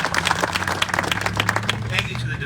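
A round of applause at a school ribbon-cutting ceremony in Aurora, Illinois, sharp individual claps from a modest crowd forming a steady ripple, moderately loud with some murmuring beneath.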